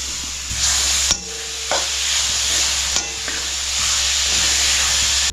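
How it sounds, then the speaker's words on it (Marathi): Bottle gourd and dry fruits fry in ghee with a steady close sizzle. A spoon stirring through the pan adds a few scraping strokes. "मी दुधी टाकते आणि दुधी पण थोडा फ्राय करून घेते"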